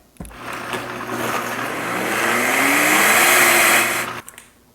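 Blender whirring at full speed through fresh basil pesto with olive oil, a sharp start, a steady loud motor roar that builds slightly in pitch, then a clean cutoff after about four seconds.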